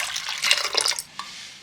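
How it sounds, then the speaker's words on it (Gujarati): Water poured into a pot with cinnamon stick and black cardamom, about a litre, for boiling dal for khichdi; a short close splashing pour lasting about a second, then a faint drip and quiet. "1 લીટર જેટલું પાણી લઈએ।"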